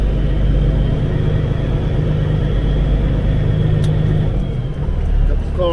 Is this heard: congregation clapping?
no